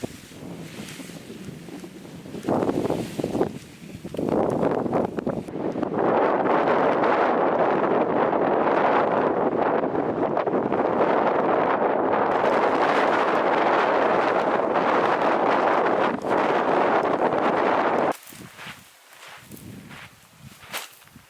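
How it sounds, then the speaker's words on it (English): Strong, unrelenting wind roars across an open campsite on flats of decomposed granite and buffets the microphone in a loud, continuous rush for most of the stretch. It drops off sharply near the end. "I found a promising campsite, though I didn't factor in the unrelenting wind."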